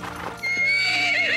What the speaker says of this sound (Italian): Ho domato io stesso questo cavallo.